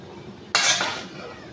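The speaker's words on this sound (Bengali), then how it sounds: "তো এখন সব নাড়াচাড়া করে মাখাঝাকা করে নিয়েছি ভালো করে।" Spinach-like gourd greens being stirred with spices in a pot with a utensil, one short close scraping, rustling burst after a moment of quiet, fading quickly.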